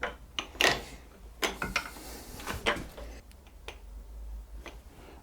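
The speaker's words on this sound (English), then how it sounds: "We do this by spinning the dial test indicator with the machine spindle." A dial test indicator is spun by a milling machine spindle, giving scattered light metallic clicks and ticks over a low steady machine hum, close by and fairly quiet.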